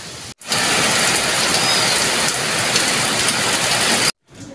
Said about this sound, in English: It is raining so hard and I have matoke there that I'm afraid is going to fall.